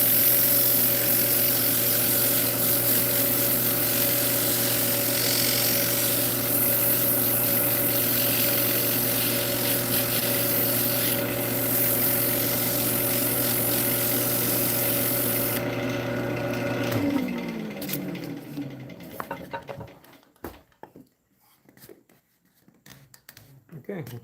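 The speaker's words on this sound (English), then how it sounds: "Give the outside rim just a little bit of a sanding." Sandpaper rubs against the outside rim of a spinning turned wooden box on a lathe, a steady scratchy hiss over the motor's hum, until the lathe spins down and falls mostly quiet with a few small knocks.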